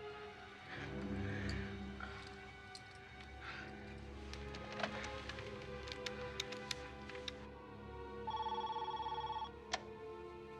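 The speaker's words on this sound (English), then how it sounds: "Pick up the phone, Dr. Jonas." A telephone rings in an indoor scene ahead of an answering machine picking up, repeated ring bursts fairly quiet under a low background hum, with one longer steady tone near the end.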